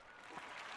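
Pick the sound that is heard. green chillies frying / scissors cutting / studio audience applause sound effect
studio audience applause sound effect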